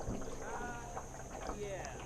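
A canoe is paddled across water while someone fishes, giving soft, steady splashes and water wash with faint wind, and voices murmur quietly in the background.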